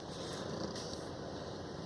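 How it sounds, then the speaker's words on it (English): A pet cat purrs close to the mic, a soft continuous rumbling texture that holds steady and alone for a couple of seconds. "my cat's here with us"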